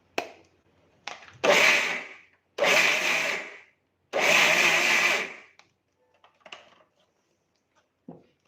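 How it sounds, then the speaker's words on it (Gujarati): A kitchen mixer grinder blends mohanthal mixture in its jar in three loud, roughly one-second whirring bursts with short pauses between them, then a few faint clicks and knocks. "હવે આપણે થોડો થોડો લઈ અને મિક્સરની જારમાં આપણે ફેરવી લેશું."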